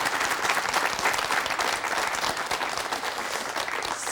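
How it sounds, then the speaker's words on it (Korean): Studio audience on a Korean morning talk show applauds steadily and loudly, a dense even wash of many hands clapping throughout with no talk. "맞을 때마다 박수 치세요."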